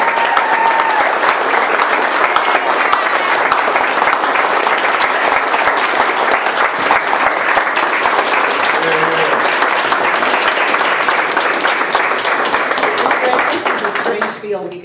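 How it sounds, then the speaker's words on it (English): A crowd applauds the mayor at an award ceremony, a dense, steady roar of clapping that holds loud and even for about fourteen seconds before tapering off at the very end. "how about a big round of applause for you"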